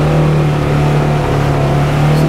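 A Polaris General XP 1000 Trailhead Edition UTV engine, 2022 model on 30-inch Pro Armor tires, drones loudly and steadily while climbing a hill, a close, sustained engine hum with no talk over it.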